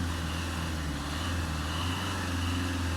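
Fiat Doblo 1.3 Multijet diesel engine idling while warming up during a particulate filter cleaning treatment, a steady low rumble with a constant drone, close and unbroken, with no voices.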